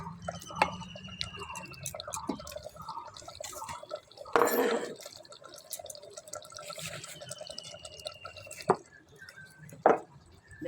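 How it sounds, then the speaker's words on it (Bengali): Goat meat curry bubbles in a clay pot just taken off the heat, with sparse wet pops and gurgles in an irregular rhythm, close and quiet, and a brief louder burst of sizzle midway. "দেখো বন্ধুরা নামানো পরেও মানে টকবক করছে।"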